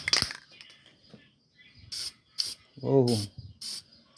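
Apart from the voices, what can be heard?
CRC aerosol spray can spraying a wheel hub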